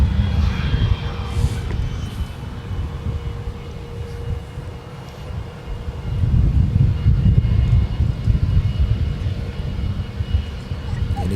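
A Delta Airbus A330neo jet takes off at Minneapolis–St. Paul Airport with a broad, steady engine rumble that swells louder partway through, while people talk over it.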